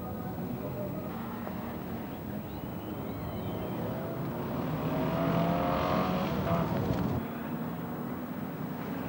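Banger racing cars at a 1989 race roaring off after the green flag, a dense, steady engine drone that swells midway as the pack gets underway, with faint commentary underneath.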